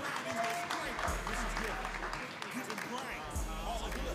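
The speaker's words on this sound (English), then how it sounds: "Please give him a round of applause." Applause from a crowd at a back-to-school boxing tournament for the head coach, a steady patter of clapping with a hum or music bed underneath and some voices mixed in.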